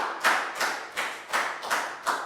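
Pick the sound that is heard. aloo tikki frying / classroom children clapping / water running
classroom children clapping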